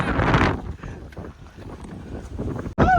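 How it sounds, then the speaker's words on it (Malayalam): Strong monsoon wind at Harihar Fort buffets the microphone in loud, rumbling gusts, strongest at the start, easing briefly, then surging again near the end. "കാറ്റ്."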